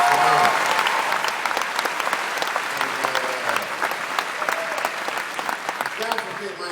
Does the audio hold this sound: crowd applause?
yes